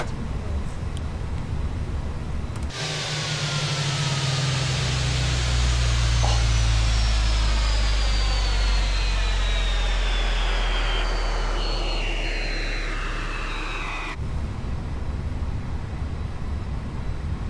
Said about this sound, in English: so we can now shut the engines down